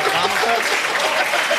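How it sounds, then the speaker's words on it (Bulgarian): An audience at a concert applauds for a performer named Georgi, brief close clapping with some crowd noise and voices mixed in throughout. "Аплодисменти за Георги още веднъж."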